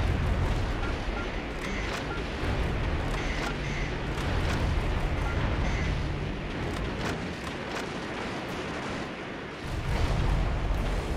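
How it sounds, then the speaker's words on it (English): Dense gunfire and heavy explosions rumble continuously in the Metal Wolf Chaos XD battle, a loud, close barrage with repeated booms and bursts and no pause in the noise. "I'm being shot at!"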